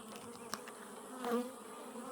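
Honeybees humming in an open hive during a July inspection while honey is being capped, a faint steady buzz with a brief louder pass near the end and a small knock early on.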